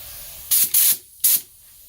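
Spray gun painting a part for a 1941 Dodge WC army truck: three short, loud hissing bursts of paint spray, the middle one longest, with quiet gaps between.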